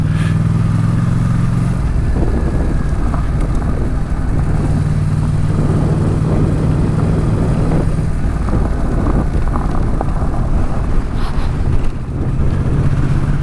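Motorcycle riding slowly over rough ground scattered with big rocks on a touring trip, its engine a loud continuous rumble with constant jolting and heavy wind buffeting the microphone throughout; no voices.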